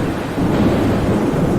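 Heavy rain pours down while a thunderstorm rumbles, a loud, dense wash of rainfall and deep thunder filling the whole moment without any voices.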